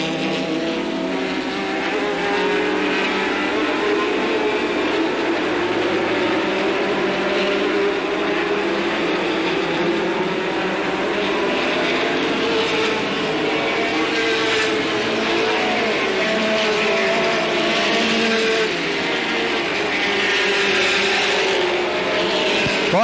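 Street stock race cars warm up on a track, several engines droning and revving continuously together in a loud, steady roar at mid distance, with no clear talk over them.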